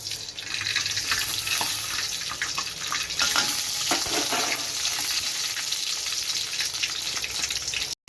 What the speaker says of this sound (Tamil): வெந்தயம் நல்லா பொரிஞ்சிடுச்சு